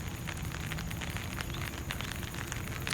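Rain falling outdoors, a dense, even hiss of drops with scattered crackling patters, steady and close throughout the short stretch, with no voices.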